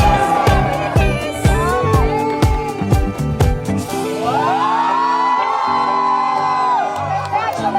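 A loud crowd at a Filipino wedding shouts and cheers over pounding drum hits and music, voices rising into a sustained roar.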